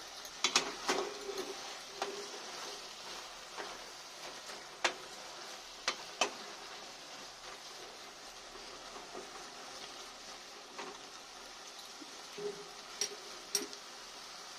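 Spring onion greens, potato and shrimp are mixed by hand with chopped coriander leaves in a hot pan, giving a soft steady sizzle with irregular light clicks and scrapes, close and without talk.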